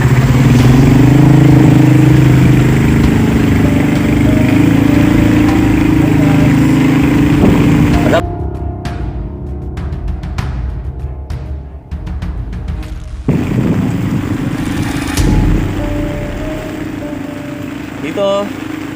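Motorcycle engine running nearby during a rainy storm ride, a steady mid-pitched drone that drops away briefly in the middle, with a voice talking over it.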